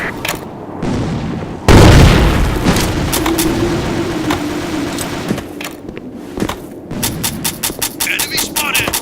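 A loud grenade blast in an online shooter game on a sandstorm map, followed by rapid gunfire bursts and clicks, with shouted voices mixed in.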